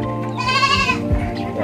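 A young goat gives one short, wavering bleat, near and fairly loud, followed by a brief low shuffle.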